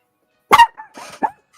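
A dog barks at home, a couple of short, sharp yaps close by followed by a quieter bark, with silence around them.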